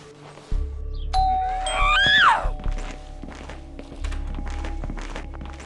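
A ding-dong doorbell chime sounds in the video game SchoolBoy Runaway, one clear sweeping tone rising and falling over steady thumping footsteps and knocks.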